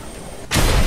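A sudden loud blast erupts in the video game Just Cause 2, a broad explosion that cuts in halfway through and holds at full volume.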